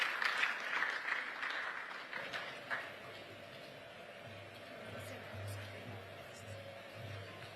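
An audience at a national mining dialogue forum applauds, the clapping strongest at the start and then fading away into a quieter room with low background sound.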